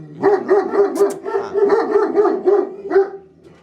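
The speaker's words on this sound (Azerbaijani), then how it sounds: "İtlər hürür səsi" Volkodav and Qurdbasar dogs bark loudly and close by in a rapid, rhythmic volley of about a dozen deep barks, with no voices over them.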